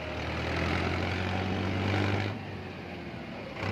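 A Mahindra Novo 605 DI tractor engine runs steadily at close range, a loud low diesel drone with a constant rumbling hum that swells briefly before easing back, with no voices.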